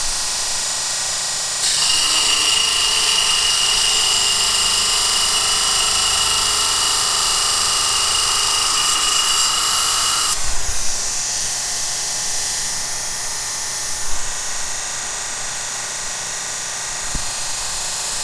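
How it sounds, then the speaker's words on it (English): A grinder works down a brazed carbide angle cutting bar in a tool-making shop, a loud, steady high-pitched whine lasting about eight seconds before winding down into quieter shop noise with a couple of faint knocks. "So we've got to grind that down a ways."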